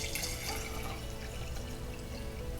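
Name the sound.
water poured into an empty jar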